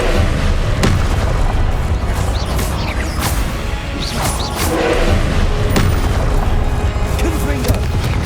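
Confringo blasting spells explode in a Hogwarts Legacy video game battle, a dense continuous roar of loud booms and crashes layered with combat effects.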